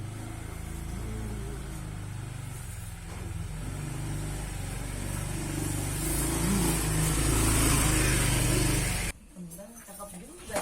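A motorcycle revs and drives off nearby, its engine rising steadily for several seconds before cutting away, with people talking over it.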